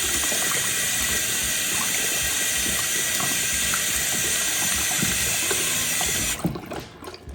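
Hot water runs steadily from a tap to wash a coin-style brush, a loud continuous splashing flow that cuts off near the end, leaving a few faint drips and handling sounds.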